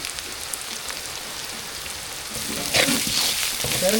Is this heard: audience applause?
no